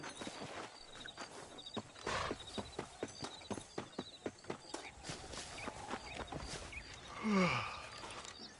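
Horse hooves clip-clop steadily in the video game Red Dead Redemption, a close, even walking rhythm that carries through, with a brief neigh near the end.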